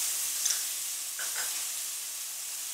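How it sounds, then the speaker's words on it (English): Minced garlic, about a tablespoon, crackles in a skillet of hot oil for chicken marengo, a continuous bright hiss with a couple of faint utensil touches near the middle. "I'm gonna add a tablespoon of minced garlic."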